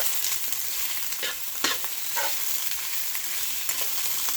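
Noodles being stirred in a hot pan of black bean sauce, a steady soft sizzle with faint scraping and a few brief clinks of the utensil, close and continuous with no talking.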